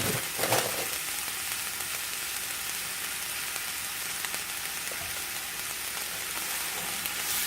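Fresh spinach sizzling steadily in a hot pan while being stirred to wilt for a Greek omelet, a dense, even crackle with a brief louder stir near the start.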